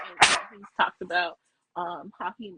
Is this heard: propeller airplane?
no